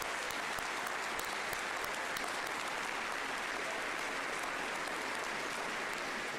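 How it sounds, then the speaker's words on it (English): Steady round of applause from a commencement crowd at a Clarkson undergraduate graduation ceremony, continuous dense clapping heard at some distance and fairly faint throughout. "please give them one more round of applause"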